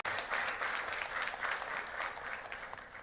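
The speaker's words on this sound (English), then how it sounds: "Please give a round of applause for all of us." Steady clapping from a crowd fills the whole stretch, dense and even, with no voices rising above it.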